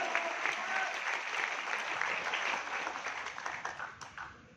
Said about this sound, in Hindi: इसलिए आपसे तालियां बजवा रहा था